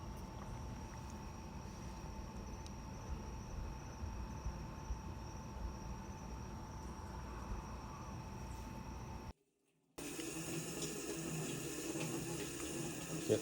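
Cold water pours steadily into a Whirlpool/Maytag washing machine with a cold-inlet fault, a constant rushing hiss that holds for about nine seconds, cuts out briefly, then resumes with a rougher, clattering tone.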